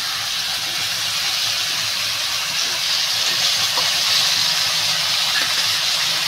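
Water poured onto a ground spice paste frying in hot oil for a Bengali katla fish and potato curry gives a steady, close, bright sizzling hiss that holds evenly throughout.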